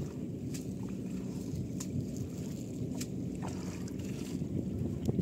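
Fishing boat out on the Padma river, a steady broadband wash of water and low rumble with wind buffeting the microphone and a few faint knocks, continuous and fairly close, with no voices.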